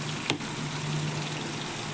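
Tomatoes sautéing in a frying pan for a simple dipping sauce: a steady, even sizzle with one brief scrape or clink near the start, close and moderately quiet, no talking.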